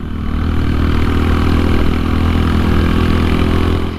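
AJS Desert Scrambler 125 motorcycle running with its exhaust note steady and loud up close, a continuous buzzing engine drone holding level for about four seconds before easing off, with no talking.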